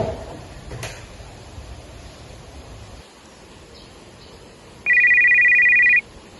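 A telephone rings while calling a product's sender: a steady electronic ringback tone lasting about a second, loud and close, after a stretch of faint room noise.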